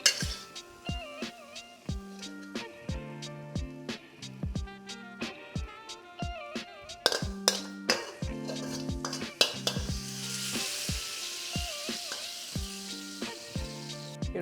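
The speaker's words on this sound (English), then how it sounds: "it's just a case of gently stirring it through and reducing that sauce back down" A spoon or spatula scraping and clinking against a pan as pork belly in a reducing cola sauce is stirred, in a steady rhythmic series of knocks under a soft sizzle and a music bed.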